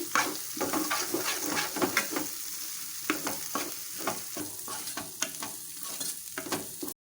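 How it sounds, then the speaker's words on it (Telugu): Turmeric frying in oil with ginger and onion paste for a fish curry, close sizzling broken by repeated rhythmic scrapes of a spoon stirring the pan, no talk. "పసుపు అంతా కూడా పచ్చివాసన పోయేదానిక ఫ్రై చేయాలండి"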